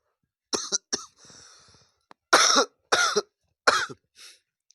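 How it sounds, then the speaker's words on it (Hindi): Several sharp coughs in short bursts, close up, with a brief throat-clearing rasp between them and silence around them. "ठंड काफी बढ़ गई है, इसीलिए खांसी हो रहा है"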